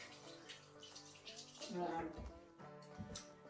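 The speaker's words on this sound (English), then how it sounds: "I'll just give my hands a quick rinse." Hands being rinsed under a running tap in a home kitchen: a faint, brief stream of water splashing, mixed with low background tones.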